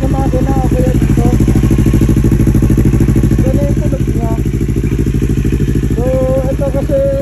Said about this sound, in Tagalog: parang may tunog niya parang merong nakalagin yata sa loob. Hindi ko alam kung sa makina o kaya dito.